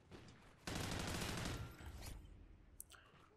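A loud burst of rapid automatic gunfire from a video game rattles for about a second, then trails off into a quieter wash with a single sharp crack near the end.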